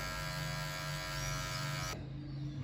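An electric hair clipper hums steadily and close, trimming a fade down to zero and blending the line, a constant buzzing drone that softens slightly near the end.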